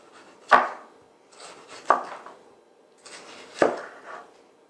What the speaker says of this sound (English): Should get about 3 nice slices per small tomato.